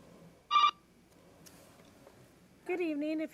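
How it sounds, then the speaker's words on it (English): A telephone rings with an incoming call-in during a city council meeting, heard as a short electronic tone burst and then a longer warbling ring after a quiet gap, faint against a hushed room. "Okay, we have one phone call."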